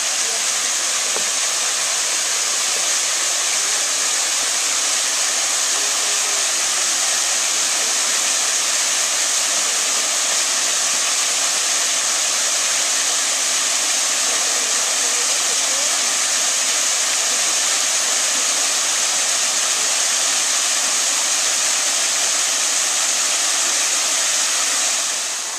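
Flowing water at Table Rock State Park, a steady broad rushing hiss like a waterfall or fast stream, constant and fairly close with no change over nearly half a minute.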